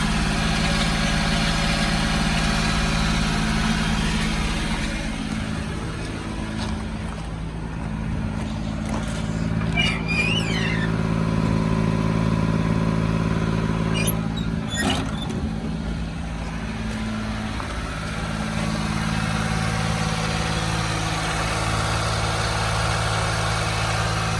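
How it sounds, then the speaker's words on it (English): A 1998 Suzuki Carry two-wheel-drive truck idles slightly high after starting, a steady low engine drone running unchanged throughout, with a couple of faint brief squeaks on top. "It'll idle a little high for a couple of minutes, and then it'll settle down."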